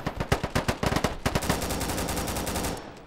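Rapid automatic gunfire from a free first-person shooter game crackles in a dense burst of sharp, evenly spaced shots that blur into a continuous roar, loud and close with no talking.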